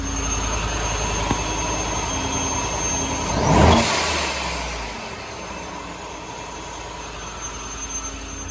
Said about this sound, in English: it's still going to sound loud because we're in my shop, but this discharge valve is so much quieter than the race blow-off valve